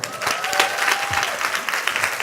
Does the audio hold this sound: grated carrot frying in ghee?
no